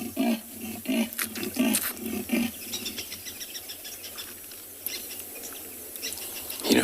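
At dusk on a safari in the Olololo escarpment area, a lioness gives a run of deep pulsing roaring calls for her territory, with birds chirping faintly around her outdoors and no voices.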